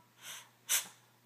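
A Shih Tzu lets out a faint, close sneeze: a soft snuffly breath in, then one short sharp burst. No voices are heard.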